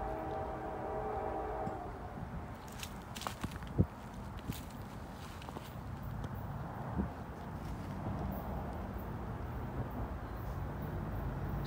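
A southbound freight train rumbles steadily past on the Norfolk Southern Rathole line. The low, continuous roar is broken by a few sharp clanks and squeaks of the rail cars.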